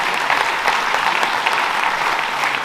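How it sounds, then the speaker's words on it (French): Sustained audience applause at a business awards ceremony in Cantal, a steady dense wash of clapping from a room full of people with no talking over it. "On peut les applaudir."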